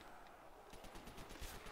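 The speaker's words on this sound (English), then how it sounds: "Shooting zombies and then they're dying." Rapid gunfire aimed at zombies in a custom zombies video game, faint bursts of quick shots in a fast rattling rhythm over a dense game background, no talking.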